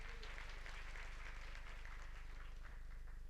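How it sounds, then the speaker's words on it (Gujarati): An audience at a Bhagwat Katha religious gathering breaks into steady, moderately distant clapping that carries on without a break and stays fairly faint, with no talking over it. "બચુ દાદા માટે ખાસ તાળીઓ થઈ જાય."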